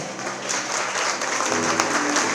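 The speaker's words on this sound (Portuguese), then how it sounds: "Levanta aplaudindo a tua casa." Dense, sustained applause from a large crowd at a couples' talk, steady clapping throughout with a faint background voice.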